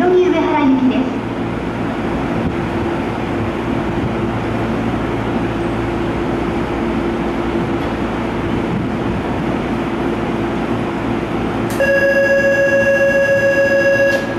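A loud Tokyo Metro Chiyoda Line 16000 series train rumbles steadily along the platform at Otemachi station as it pulls in, then a clear electronic chime rings out near the end.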